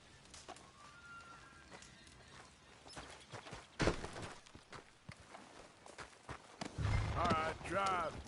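Horse hooves clip-clop in Red Dead Redemption 2, fairly faint and uneven beneath a voice that talks over much of the stretch.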